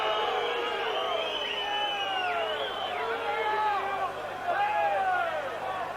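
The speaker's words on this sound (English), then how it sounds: "Crowd don't like it." A football stadium crowd at a Standard Liège versus Dundee United European Cup tie lets out a sustained, loud roar of disapproval, with rising and falling whistles swelling through it and a fresh surge near the end.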